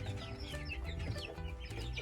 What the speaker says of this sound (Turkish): kümesimizdeki beslemiş olduğumuz tavuklarımızın